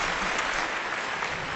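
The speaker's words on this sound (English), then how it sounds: "a huge round of applause for all of our panelists" Audience applause for panelists at a business forum, a short, dense, even burst of clapping from a crowd.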